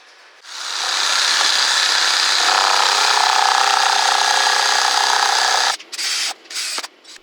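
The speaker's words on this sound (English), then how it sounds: "I used a step drill to make a starter hole and then a jigsaw for the parts I could access" A jigsaw cutting a vent hole in a Ski-Doo G4 snowmobile panel, a loud, steady high buzzing cut that runs for about five seconds, then stops and restarts in a few short bursts.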